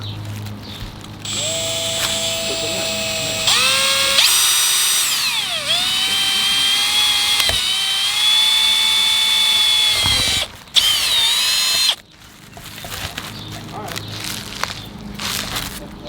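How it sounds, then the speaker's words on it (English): A power drill whines continuously at varying pitch, drilling screw holes for carbon fiber side skirts on a Cadillac CTS-V, speeding up and slowing down through several runs, then stops abruptly. "So, I have to drill holes for the screws."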